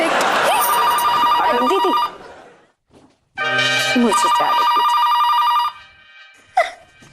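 A telephone rings in a loud electronic trill over a room tone. Two long bursts are separated by a short gap, and someone speaks briefly between and after the rings.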